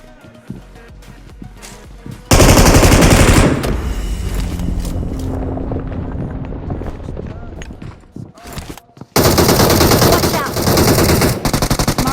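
Bursts of automatic gunfire in the mobile battle royale game BGMI as enemies are finished off, loud rapid volleys starting abruptly, easing into scattered shots and softer game sounds, then another dense barrage near the end.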